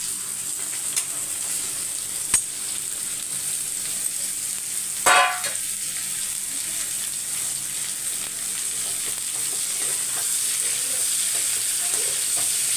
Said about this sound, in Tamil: அப்படியே எண்ணெயிலே வதக்கிட்டு அதுக்கப்புறம் உப்பு மிளகாத்தூள் சேர்த்துக்கலாம்